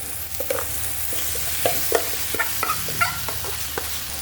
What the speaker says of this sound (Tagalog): Ilagay natin yung monggo.